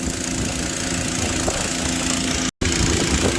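Small water pump engine running steadily at a constant idle-like drone on a Southland, NZ sheep farm in wet weather, filling and draining tanks; loud and close, with a brief dropout near the end.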